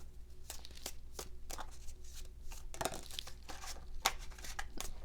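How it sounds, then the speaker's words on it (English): Tarot cards shuffled sloppily by hand, with soft, irregular papery riffles and flicks that come in quick bursts, faint and close over a low background hum. "Oh yeah, sloppy shuffling."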